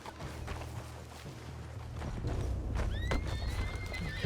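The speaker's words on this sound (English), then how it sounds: "What's wrong with this horse?" A horse whinnies loudly over a steady rumble of hooves clip-clopping in Red Dead Redemption 2, the neigh rising sharply near the end.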